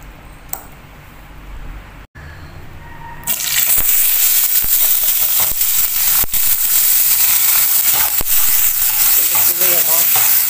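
Blended chili paste hits a hot pan for Indonesian chicken balado and bursts into loud, steady sizzling, with stirring scrapes throughout, after a few quiet seconds of kitchen handling.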